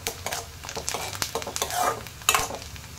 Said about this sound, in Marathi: कांदा छान परतून झालेला आहे